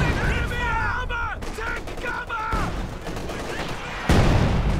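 Video game battle with small arms and light machine gun fire: bursts and single shots crack in the distance while someone talks over them.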